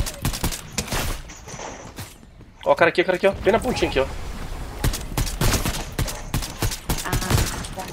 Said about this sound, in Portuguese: Tem tiro aqui à direita.